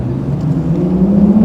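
An Audi R8 V10 engine drones loudly and steadily, its low growl rising slightly in pitch as it revs, close by with no voices.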